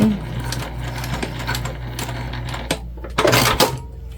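A sewing machine bastes a crossbody bag, with a short run of rapid mechanical clatter near the end following light handling clicks and rustles.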